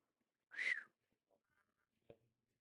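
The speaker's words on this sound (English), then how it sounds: "I'm guessing the whistling is probably awful for you guys to hear." A person gives one short, quiet whistle to call a pet dog named Maggie Pie, followed by a faint click and near-silence.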